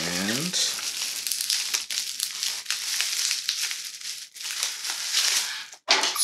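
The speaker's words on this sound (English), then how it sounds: "Lots of bubble wrap here." Bubble wrap from an unpacked parcel of comic books crinkles and crackles close by in a continuous rustling stretch, with brief louder crunches and no talking over it.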